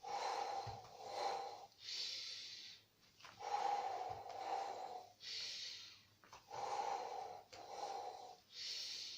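Repeated, steady cycles of audible breathing during Pilates, with loud inhales and forceful exhales close to the microphone and brief pauses between them.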